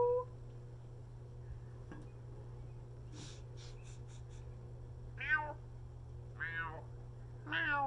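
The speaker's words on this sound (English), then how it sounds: "Sounds like Gary the Snail. Meow" A cat meows three times in the second half, close and clear, each call rising and falling, over a steady low hum with a few faint soft noises earlier.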